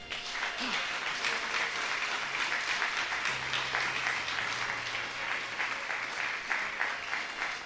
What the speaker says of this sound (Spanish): Dele aplauso al Señor.